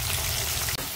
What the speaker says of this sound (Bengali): এবার ভাজা হোক।